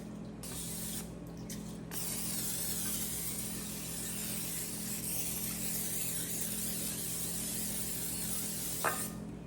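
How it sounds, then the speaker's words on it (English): A steady hiss of canola oil aerosol spray into a baking dish runs almost unbroken for several seconds, close to the mic, with a low hum underneath and a small clink near the end. "Baking dish with some canola oil, some spray so it won't stick too bad."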